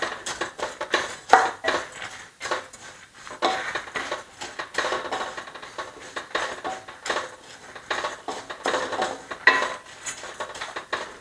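Tamarind roasts in a pan for dal thuvaiyal, with repeated clinks and scrapes of a metal spoon stirring against the pan in an irregular rhythm, close and moderately loud, with no talking.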